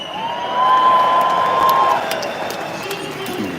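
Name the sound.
protest crowd cheering for a speaker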